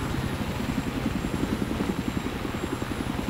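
Helicopter in Battlefield 3, a steady close rotor thump and turbine whine running without a break at high level, with no talk over it.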